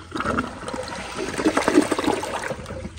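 A black Kohler Cimarron Revolution 360 toilet flushes with a steady rushing swirl of water that gurgles and trickles as the bowl drains and refills, close and continuous.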